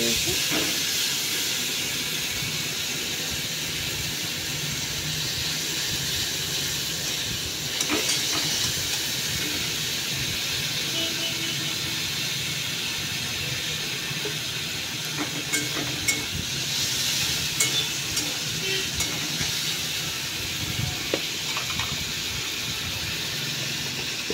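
Tomatoes simmering and sizzling in a pan for a simple Odia home-cooked lunch, a steady hiss throughout with light clatters and brief stirring scrapes near the end.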